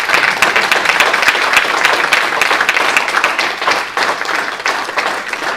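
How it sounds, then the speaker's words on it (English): A Capitol Hill UAP briefing audience gives a sustained round of applause, dense clapping from many hands filling the room at an even level, faint murmurs beneath. "a huge round of applause for Retroactive and being stuck with us"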